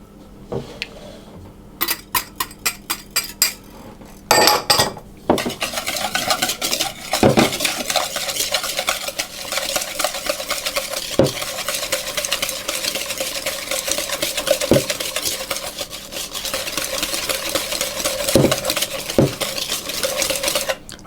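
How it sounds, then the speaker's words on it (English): Sugar and butter are mixed in a bowl for muffins, with a few sharp clinks at the start, then a continuous scraping stir punctuated by occasional louder knocks of the utensil against the bowl. "So then what we need to do is to mix the sugar and the butter together."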